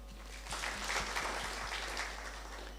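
An audience at a university computing workshop applauds. Dense, even clapping fills the whole clip at moderate loudness over a steady low hum.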